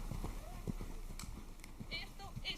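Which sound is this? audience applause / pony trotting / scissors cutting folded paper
pony trotting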